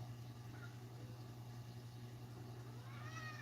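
A pet cat meows softly indoors, a couple of faint mewing calls rising near the end over a steady low electrical hum.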